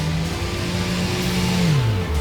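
A PAL-V Liberty flying car's engine runs at full power during a pre-takeoff check at a runway holding point, a steady loud drone with a tone that holds and then drops slightly near the end.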